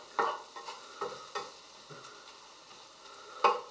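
A spoon stirs melting sugar and fat in a pan for a quick cake, with a few soft scraping strokes and light sizzling over a faint, quiet background.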